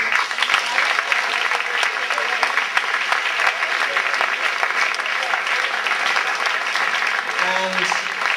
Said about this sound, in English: I particularly want to give a quick round of applause to